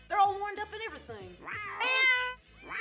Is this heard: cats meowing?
yes